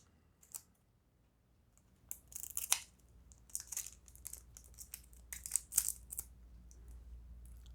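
Scissors cut into a tightly sealed Duel Masters card pack with a series of sharp snips and crinkling foil tears, quiet pauses between bursts, close up with no talk.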